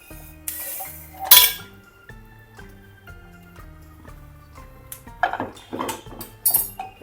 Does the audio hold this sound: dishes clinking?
yes